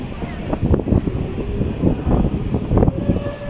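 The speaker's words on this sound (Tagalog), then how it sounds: "talagang masarap ang simoy ng hangin dito" Strong wind rumbles against the microphone in uneven gusts by the sea, with a washing, surf-like roar underneath, fairly loud and continuous.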